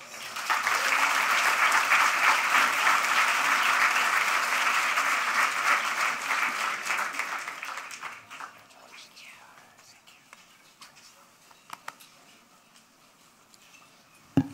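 Audience applauding at the National Design Awards gala, loud sustained clapping that fades after several seconds into a quiet room with a few scattered claps and faint murmurs.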